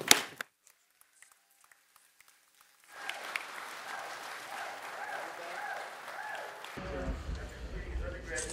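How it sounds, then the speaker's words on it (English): Audience applause at Los Angeles City Hall, a crowd clapping steadily for several seconds after a quiet stretch of sparse taps, moderately distant, with a voice speaking at the start and loud close talk cutting in at the end. "another round of applause"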